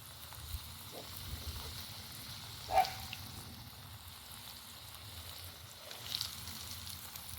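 Zucchini fries fry in hot oil with a faint, steady sizzling hiss, broken by a brief clink and a soft shuffle as they are turned.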